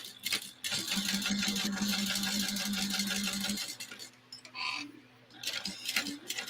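A sewing machine stitches a fabric bag in a fast, steady mechanical run lasting a few seconds, followed by quieter clicks and handling, with faint talk in the background.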